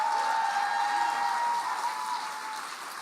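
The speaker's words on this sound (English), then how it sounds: "Give yourselves a round of applause because you represent our nation." Crowd at a political forum applauds, a dense, roaring wash of clapping and cheering that starts loud and slowly fades, with a whistle-like tone riding on top.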